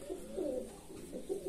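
Domestic pigeons in an aviary give soft, low, repeated coos, close and steady against a faint background hiss.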